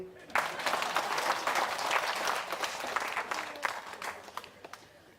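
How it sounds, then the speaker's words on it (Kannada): Audience clapping at a talk on millets and healthy food, a sustained burst of dense applause from a large crowd that swells, holds steady, then thins out toward the end. "ಚಪ್ಪಾಳೆ ತಟ್ರಿ."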